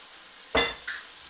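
A pan of beef, tomato sauce and water shaken once with a short, close whoosh and sizzling slosh, followed by a smaller second shake, with quiet room tone otherwise.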